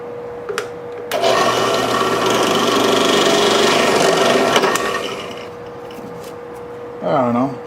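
A power drill whirs steadily for several seconds while boring holes in a neck knife blank, loud and close, then winds down, followed by a brief squeaky whine.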